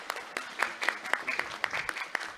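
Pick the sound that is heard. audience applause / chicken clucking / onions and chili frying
audience applause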